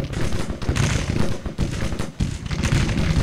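Civil War artillery firing in Grand Tactician: The Civil War, with skirmishers' muskets popping at long range: a dense, loud stream of booming thuds and crackling reports in quick irregular succession.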